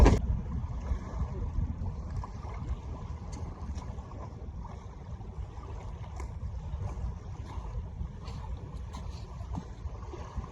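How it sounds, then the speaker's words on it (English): Strong gusty wind at about 14 mph roars across an outdoor lake on a cold winter day during a model sailboat test, a steady broadband low rumble with buffeting microphone noise and no talk. "wind's really cranking, about 14 miles an hour"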